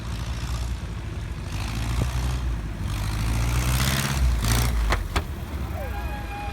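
Light aircraft engine during short takeoff and landing training, swelling in a short burst of power over a low droning rumble, then easing back, heard close with brief clicks and faint talk.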